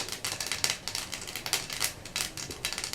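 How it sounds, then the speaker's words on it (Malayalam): Mustard seeds crackle and pop in hot oil while tempering for an ash gourd curd curry, a dense run of quick sharp snaps, fairly faint and with no talk. "കടുക് പൊട്ടി തുടങ്ങി."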